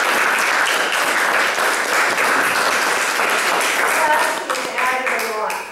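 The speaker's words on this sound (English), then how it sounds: "Steve Rogers, who I think deserves a special round of applause" An audience at a local history forum on transportation applauds together, a dense, steady clapping that holds strong and then starts to thin toward the end.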